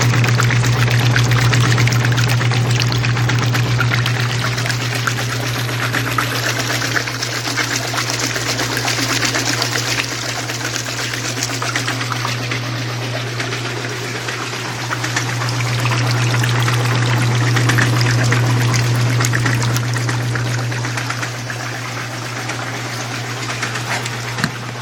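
Water runs steadily over a gold shaker table while its motor drones in a constant low hum, with a broad wash of splashing noise over the whole stretch and no talking.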